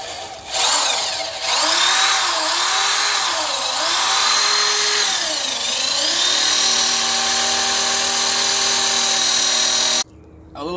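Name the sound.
power drill drilling guide holes with 11/32 bit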